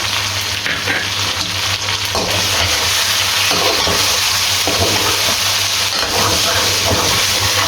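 Tamarind, about 30 grams of it, frying and being stirred into a Hyderabadi chicken degi pulao pot, giving a loud steady sizzle with scraping stir strokes throughout and no talk.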